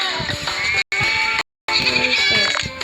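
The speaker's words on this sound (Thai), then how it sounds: "นี่คือแกะนะคะ" Sheep in a video game bleat loudly and close, several wavering cries broken by two short gaps of silence, with no talking.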